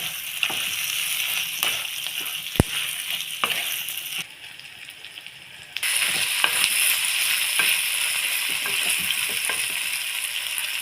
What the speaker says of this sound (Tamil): பச்சை மிளகா பாதி வேகணும், அந்த அளவுக்கு நம்ம வதக்கலாம்